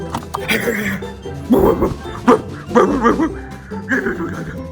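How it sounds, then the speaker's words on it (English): A dog in a home kitchen lets out several short barks and whimpering yips in scattered bursts, close by and moderately loud, with a person talking in between. "No, don't start barking."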